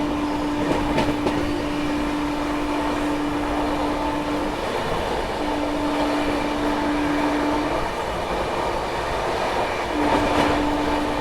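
A Duronto Express train runs at speed while overtaking a MEMU train, with a loud, steady rumble of wheels on rail and a sustained tone that drops out and returns, with no voices.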